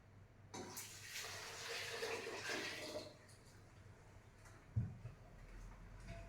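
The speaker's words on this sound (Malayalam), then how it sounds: "ഇനി ഒരു 3 ലിറ്റർ വെള്ളം കൂടെ നമ്മൾ ഒഴിക്കണം." About three litres of water poured into a pot of grapes, beetroot and whole spices for homemade grape wine: a soft, close splashing rush lasting a couple of seconds, then quiet with a single small knock.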